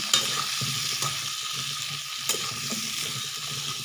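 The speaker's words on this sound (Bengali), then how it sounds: "এটাকে একটু পাঁচ মিনিটের মতো ভেজে নেব" Chicken curry frying in a pan, a steady loud sizzle with spatula stirring and occasional scraping knocks, close up and with no talking.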